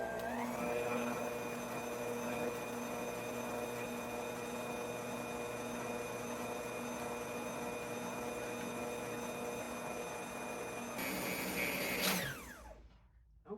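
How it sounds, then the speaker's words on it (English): Nutrimill Artiste stand mixer beating lemon loaf batter, a steady close motor whine with a constant hum, running evenly before winding down and stopping near the end. "everybody always asks me about this mixer, and it's a Nutrimil Artiste"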